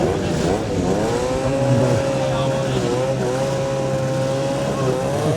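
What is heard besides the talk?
Yamaha racing motorcycle passing at the Manx Grand Prix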